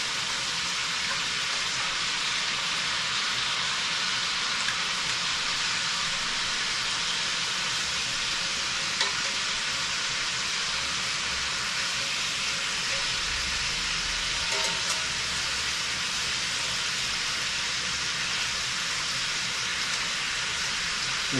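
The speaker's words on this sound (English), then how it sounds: "If you have little pieces of oxtail like this, I just sear them on their side." Oxtail pieces sear in a hot pan with a loud, continuous hiss and sizzle, close and steady throughout, with a few faint clicks and low bumps.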